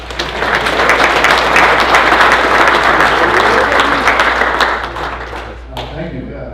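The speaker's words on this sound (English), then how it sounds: "Give her a round of applause." Audience applause fills a golf association's summer meeting, a loud, dense round of clapping that holds steady for several seconds, then fades as a voice begins.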